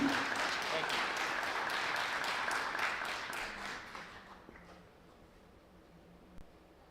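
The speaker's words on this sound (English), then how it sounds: "please give a big round of applause" Audience applause at a Prosper community chapter event, a dense wash of many hands clapping that holds steady for about four seconds, then thins and fades into quiet room noise.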